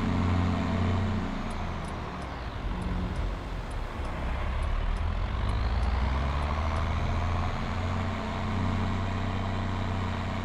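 A junkyard farm tractor's diesel engine runs steadily and loudly throughout, a deep low rumble with a constant drone and no talk.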